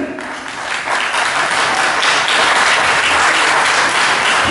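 Loud, dense applause from an audience at a debate on a religious theme in Cameroon, continuous clapping with a roar of crowd noise swelling and sustained, no speech over it.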